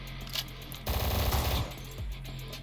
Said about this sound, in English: This is literally a machine gun.